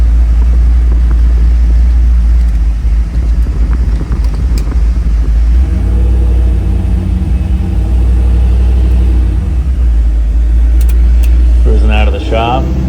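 A loud car engine pulls out onto a highway, a heavy steady rumble that rises into a revving surge near the end.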